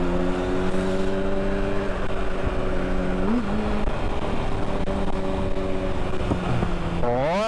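A tuned motorcycle engine holds a loud, steady drone up close, then its pitch climbs sharply in a rev at the very end, with no talk.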